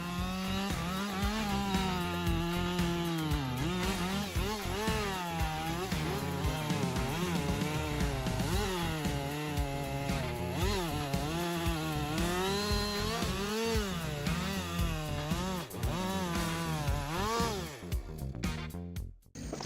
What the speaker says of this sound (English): The MEST 360 Tour saw turns dense logs into small pieces with unparalleled precision at an impressive speed of 362 units.